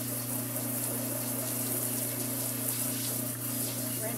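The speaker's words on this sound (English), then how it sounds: "and then I run my garbage disposal" A kitchen garbage disposal runs with water flowing into it, a steady close mechanical hum with a rushing wash that holds constant throughout.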